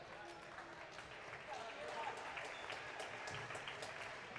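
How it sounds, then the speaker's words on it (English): Crowd in a gym at a North Dakota girls basketball game applauds as the starters are subbed out, a faint, steady wash of clapping running for several seconds beneath a commentator's voice. "A big round of applause coming."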